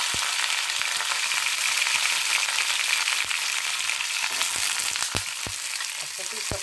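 Cauliflower frying in hot oil with whole garam masala for veg rice: a dense, loud, continuous sizzle with scattered sharp clicks and pops, close up and unbroken, no voices.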